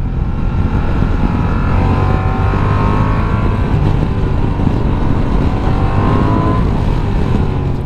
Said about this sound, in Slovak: Celkom zaujímavý motor má tento Transalp.